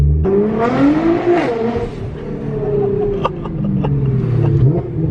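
A BMW M3 accelerating hard, its engine note rising loudly and close by, then holding a strong, steady roar through the whole stretch.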